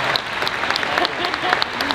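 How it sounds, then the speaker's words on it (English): An event audience in Philadelphia breaks into steady applause, a dense, even patter of many hands clapping throughout, with some speech mixed in. "Let's give a round of applause."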